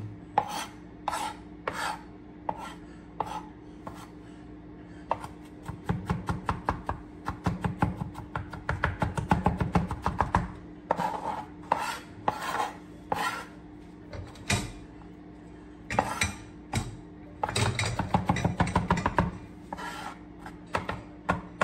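Food being chopped with a knife for a home-cooked dish headed into a pot, a long run of sharp, close knocks on a cutting board in uneven bursts, sometimes rapid and clustered, sometimes spaced out, with no talk over it.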